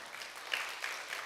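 A church congregation at a New Year revival service gives a brief round of applause, faint and somewhat distant, a soft patter of many hands with a couple of slightly sharper claps.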